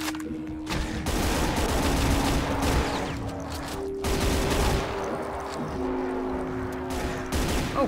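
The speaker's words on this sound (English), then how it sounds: "he's still shooting at me with a missing arm" Rapid bursts of gunfire from an enemy in the video game Brutal Doom, loud and continuous volleys of shots with steady tonal game sounds underneath.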